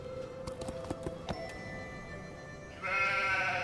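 Sheep bleating inside a Nancy Drew video game, several short tonal calls with hoof-like clip-clops, followed by a louder sustained bleat near the end.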